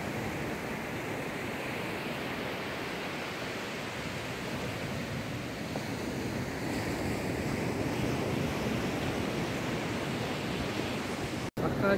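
Sea waves roll in at Palolem Beach in South Goa, India, a steady broadband roar of surf with wind noise over the microphone, continuous and moderately loud throughout.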